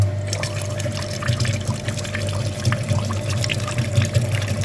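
A radiator flushing machine runs steadily, pumping liquid through a very dirty heater core of a Chevrolet Aveo, making a continuous watery gurgle and trickle over a low, constant motor hum.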